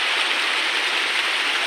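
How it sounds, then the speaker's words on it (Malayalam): A mountain stream pours down from above on the road between Malakkappara and Valparai, a steady, close, full rush of broadband water noise with no voices. "എന്തിൻ്റെ മുകളിൽ നിന്നാട്ടോ ഈ വെള്ളം വരുന്നത്"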